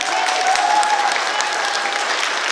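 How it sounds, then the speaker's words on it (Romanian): Audience applauding at a folk customs and traditions festival in Dofteana, a dense, steady wash of many hands clapping that holds evenly for a couple of seconds with no break. "Mulțumim doamnei profesor Ana Hanganu, vă rog să-i mai aplaudați încă o dată"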